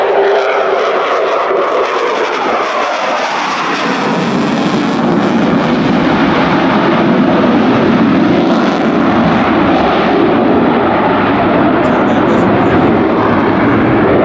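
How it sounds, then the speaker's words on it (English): A Ukrainian Air Force jet performs a flying display at the Royal International Air Tattoo at RAF Fairford, a loud, thunderous engine roar that builds and sweeps past steadily, with a commentator talking over it. "Magnificent to see a thunderous display by this aeroplane back at the Royal International Air Tattoo"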